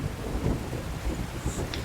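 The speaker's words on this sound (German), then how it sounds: "ist dann da eigentlich Donnerwetter hier?" Thunder rumbles over steady heavy rain in the video game Hellblade: Senua's Sacrifice, a dense continuous roar with a faint higher crack near the end and no voices.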